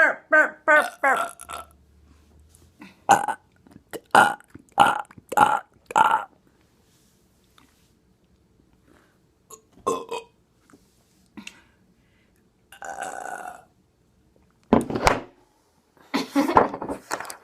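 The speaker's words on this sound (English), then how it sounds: "Burp, burp, burp, burp, burp, burp." A person burps loudly and repeatedly, several quick belches in a burst then a few more spaced ones, close to the mic with brief talk between.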